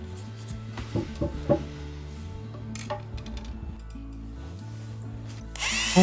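An impact driver bores bolt holes through wood for a carpentry extension, the bit chewing in with a steady mechanical whir, several sharp knocks and brief bursts, close and fairly loud, with a harsher burst at the end.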